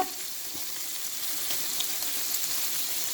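Chopped chicken hits a hot pan and fries with a steady, fairly quiet sizzle and crackle that runs throughout, with no talking.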